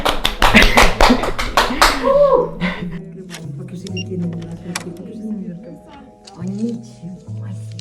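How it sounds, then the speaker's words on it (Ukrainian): A quick burst of about eight sharp hand claps in Hamburg fills the first two seconds, close and loud, then stops as a voice starts talking over a low steady hum. "Аплодисменти. Оплески."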